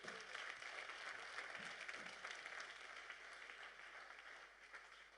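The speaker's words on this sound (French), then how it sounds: "Acclame puissamment le Seigneur." Church congregation applauding in worship, a dense, even patter of many hands clapping throughout, fairly distant and soft, tapering slightly toward the end.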